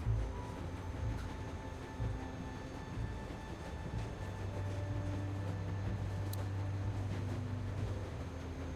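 Steady low rumble of a train running in The Walking Dead video game, a continuous rolling drone with faint rail hum, even and sustained throughout.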